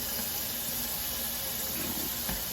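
Tap water runs steadily into a sink while freshly dyed yarn is rinsed, a constant close hiss and splash with no breaks.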